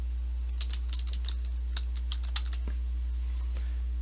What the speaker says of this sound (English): And then type in your domain name.